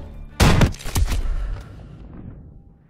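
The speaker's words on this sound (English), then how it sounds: "I actually blew myself up with the bazooka" A single loud bazooka blast in Call of Duty: WWII, a sharp close impact followed by a second crack and a rumbling tail that fades over two seconds.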